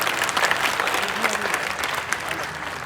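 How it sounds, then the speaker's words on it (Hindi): Loud, sustained applause from a poetry-recital audience fills the stretch, dense clapping with crowd noise and a voice or two faintly mixed in. "एक बार जोरदार तालियां"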